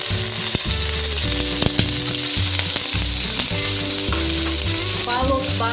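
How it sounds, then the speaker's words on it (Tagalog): Grated onion frying in hot beef oil for Filipino-style spaghetti: a steady, dense sizzle with a few stirring knocks, under prominent background music. "let's put our grated onion."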